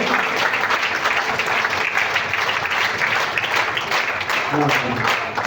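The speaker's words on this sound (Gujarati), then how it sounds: "જોરદાર તાળીઓ" Loud, sustained applause from a crowd at a Shrimad Bhagwat katha religious gathering, dense continuous clapping that fills the whole stretch without a break.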